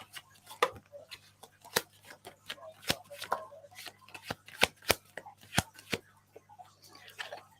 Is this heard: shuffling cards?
yes